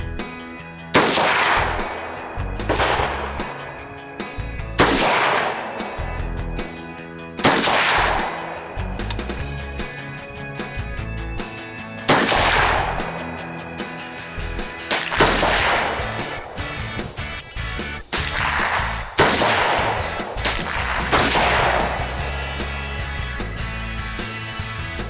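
A custom AR-15 rifle fires a series of loud, sharp shots at irregular intervals, some in quick pairs, over steady background music.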